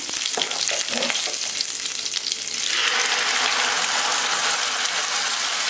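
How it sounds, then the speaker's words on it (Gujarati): Cumin seeds and curry leaves sizzle in hot oil as a tempering for farali handvo, a loud steady frying hiss that swells and becomes continuous after a few seconds, close up with no talk. "તેલ ગરમ થશે એટલે આપણે જીરું ઉમેરી દેવાનું છે જીરાથી જ વઘાર કરવાનો"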